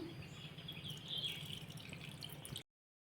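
Blue butterfly pea flower water is strained off, giving a steady close trickle and dripping for a few seconds before it stops abruptly, with no voices.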